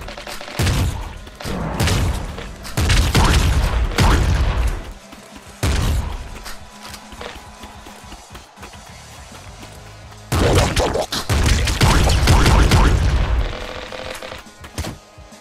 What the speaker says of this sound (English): the slugger is a shotgun related weapon and shoots like a gun